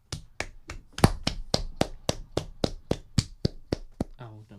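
Fourteen or so sharp hand claps in a steady, fairly quick rhythm, loud and close, ending with a brief voice.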